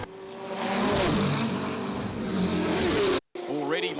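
Race cars in a New Zealand endurance championship three-hour race, including an Audi, roar past on the circuit, loud and continuous, then cut off briefly before another car comes through, under excited commentary.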